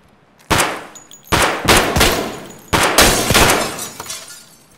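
Pistol gunfire in a PMC gunfight at Interchange in a shooter game: three loud, close bursts of sharp shots, each fading into a ringing echo, with almost no talk.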